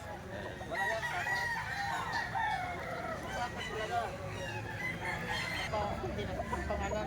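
Hulsy Lemon gamefowl roosters crow in a long drawn-out call among clucks and other fowl noises nearby, while someone talks over them.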